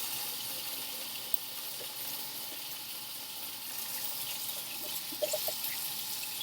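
Warm water runs steadily from a tap into a sink during handwashing, a soft continuous hiss and trickle heard close but faint, with a few small splashes near the end.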